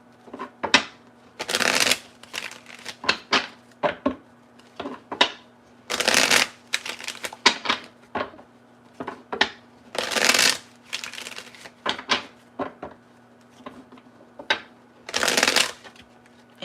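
Repeated bursts of tarot cards being riffled and shuffled, brisk ruffling flurries separated by short pauses, close up.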